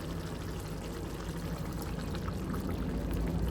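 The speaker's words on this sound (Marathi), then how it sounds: "मी थोडं पाणी मिसळते," Water poured from a vessel into a pan of simmering chicken curry, a steady soft splashing pour lasting a few seconds, faint and close with no talk.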